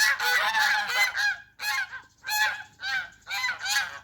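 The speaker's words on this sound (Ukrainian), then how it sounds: "І ось такі наші гуси." Domestic geese honk in loud, close bursts: about five harsh calls come in quick succession, with short pauses between them, and no other sound is heard.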